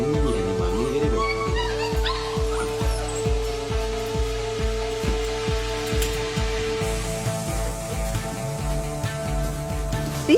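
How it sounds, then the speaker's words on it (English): Eager, hungry puppies whimper and yip in a rapid, repeated chorus of short cries and barks, close and fairly loud throughout, with a steady background hum beneath them. "These are some eager puppies. Well, seems like they're hungry."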